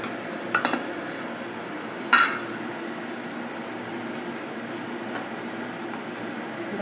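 Mango pulp being stirred in a pan for ladoo, a steady low scraping and soft sizzle that runs throughout, with a few brief louder clinks of the spoon against the pan near the start.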